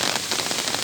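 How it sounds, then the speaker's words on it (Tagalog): Heavy rain pours down steadily, a dense, loud hiss of drops drumming on a surface with no voices. "Sobrang lakas po ng ulan."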